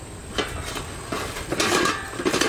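Old 13-inch dog dish hubcaps handled up close, giving a few sharp metallic clanks and rattles with scraping between them, with no talking.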